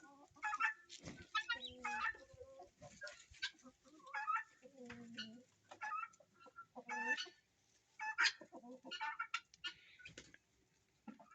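Guinea fowl give repeated harsh, rhythmic calls close by, in bursts of rapid chattering cries with brief pauses between, fairly quiet overall.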